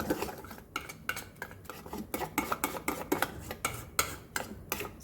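Thick eggplant pakora batter gets mixed in a bowl, a quick run of sharp, rhythmic clicks and taps of a utensil against the side, close and steady with no talking.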